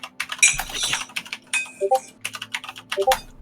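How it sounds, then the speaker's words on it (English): Rapid clattering keystrokes on a computer keyboard, close and moderately loud, in uneven bursts with brief pauses, alone without talk. "I'll type them both."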